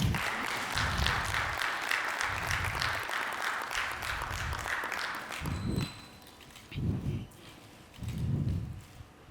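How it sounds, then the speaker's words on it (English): Applause after a government minister and a president exchange signed partnership notes at a formal agricultural cooperation ceremony, a steady patter of clapping that thins out into a few separate bursts toward the end. "we can clap hands"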